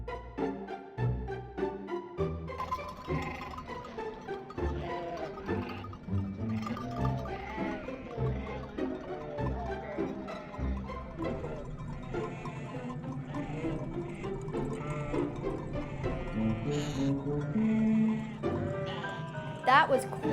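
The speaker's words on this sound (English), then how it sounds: "Look at all the sheep." Sheep bleat repeatedly among a large flock in Norway, mixed with steady crowd noise and people talking nearby.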